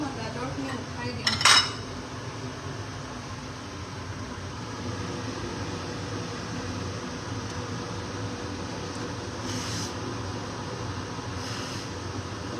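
A ladle clanks against a metal cooking pot as boiled carrots are lifted out, a brief cluster of sharp clatter early on, then a steady hiss of simmering water and a faint fan hum.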